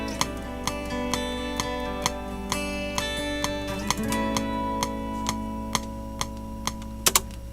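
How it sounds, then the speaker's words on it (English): Metronome in the Studio One music software clicking at a steady even tempo, faint sharp ticks over a sustained musical backdrop without talk. "turn the metronome off"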